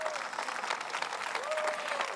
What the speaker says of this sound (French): Quelqu'un devrait applaudir avant que j'explose.